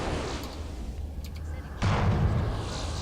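Starship weapons fire in the Star Fleet Command space combat game plays as a low rumbling electronic drone that drops away, then returns abruptly as a louder, denser roaring blast through the last second or so.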